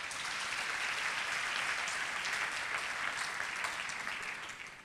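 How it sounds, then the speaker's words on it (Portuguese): A crowd claps steadily and loudly for several seconds, the applause holding even before tapering off at the end. "Eu peço uma salva de palmas para o Robin."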